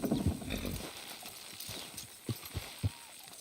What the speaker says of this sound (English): The dumb animals don't know what to do, and neither do the horses.